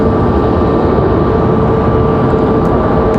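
An American Airlines 737 airliner touching down at Raleigh-Durham International Airport, a steady loud broadband roar of engines and rushing air with a constant tone running throughout, no voices.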